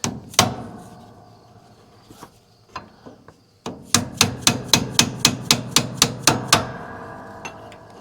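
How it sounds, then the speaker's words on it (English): Hammer driving a punch against the lift cylinder of a New Holland 660 round baler, loud metallic blows, first scattered and then a quick run of about a dozen evenly spaced strikes. "Go grab a hammer and a punch."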